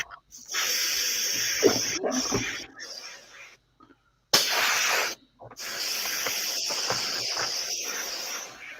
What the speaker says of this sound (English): That's PJ with his airbrush.